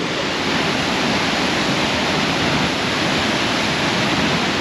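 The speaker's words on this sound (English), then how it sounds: "This is the high falls on the Pigeon River." The High Falls on the Pigeon River at the Canadian border pour with a loud, steady roar that never lets up, with no talking.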